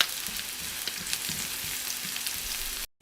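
Garlic sizzling in a hot pan for a fish dorade and pork belly coconut milk dish, a continuous crackling fry with occasional stirring scrapes and clicks, steady and close, then a sudden stop.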